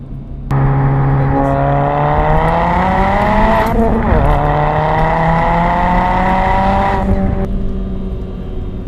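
Ford Fiesta ST X47R with about 280 wheel horsepower and traction control off, accelerating hard in second gear from around 4,000 RPM; a loud, steady engine note rising in pitch for several seconds, with a brief shift-like dip midway.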